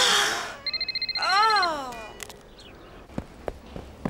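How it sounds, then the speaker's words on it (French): A cartoon telephone in a hospital setting rings with a rapid, pulsing electronic trill, followed by swooping musical tones and a few sharp knocks and clicks. "Je crois que c'est votre téléphone, Cathy."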